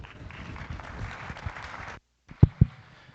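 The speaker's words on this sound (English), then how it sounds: "So congrats those kids and give them a round of applause." Applause from a crowd at a 4-H and FFA junior livestock beef show in Spokane, honoring the kids of an ice class; a soft, moderate round of clapping for two seconds, then a pause and two sharp thumps.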